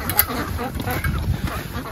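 About twenty-five small ducklings being brought in quack and peep in a busy close-up cluster, with faint background voices beneath.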